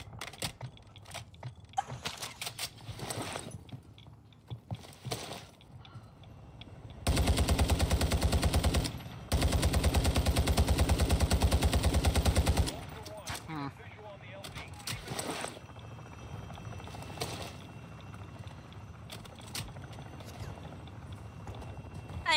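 Automatic gunfire in Call of Duty DMZ on Ashika Island: a long, loud burst of rapid machine-gun fire lasting several seconds, with a short break in the middle, surrounded by scattered single shots, footsteps and someone talking.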